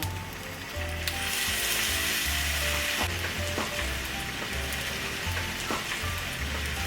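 Tofu fries in a pan with a splash of soy sauce for a vegetarian chili-paste stir-fry, a loud, continuous crackling sizzle with popping spatters and occasional stirring, close and unbroken, no talk.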